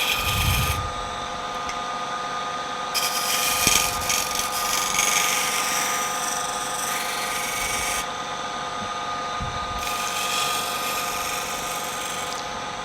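Wood on a lathe being scraped with a tool to form a bead: continuous loud whirring hum with a raspy, hissing scrape that starts and stops in bursts, close by, with no talking.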